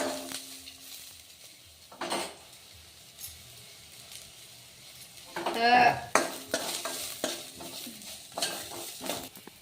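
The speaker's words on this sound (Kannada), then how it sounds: "ಗೋಲ್ಡನ್ ಕಲರ್ ಬರೋವರೆಗೂ ಈರುಳ್ಳಿ ಕರ್ಕೊರಿ." Onion and garlic frying in a pan until golden, a quiet sizzle marked by occasional spoon clinks and a louder burst of stirring and scraping midway.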